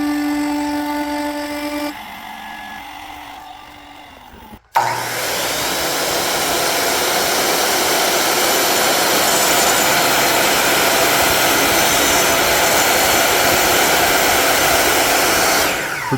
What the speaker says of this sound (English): using the miter saw is quicker